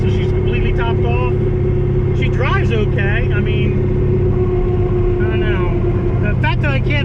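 A 1000 rwhp turbocharged drag car drives along with a steady, loud engine drone and low rumble filling the whole stretch, while someone talks continuously over it from inside.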